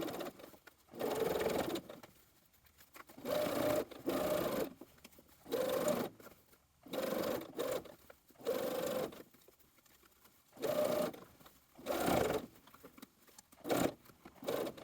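Home sewing machine understitching a dress facing near the seam, running in short whirring bursts of about a second each, separated by brief pauses, close and steady, with no voices.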